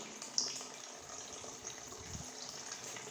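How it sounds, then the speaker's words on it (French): An Arduino-controlled water pump fills a tank with a quiet, steady stream of running, splashing water that is faint and continuous, with one brief click near the start. "En ce moment, la pompe est activée."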